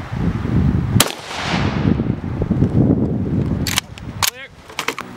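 Rifle shot fired at a BAO Tactical Level IV hard armor plate, with 5.45x39 or 7.62x54R rounds, outdoors: a single sharp loud crack, then further sharp impacts and wind noise, with people talking nearby.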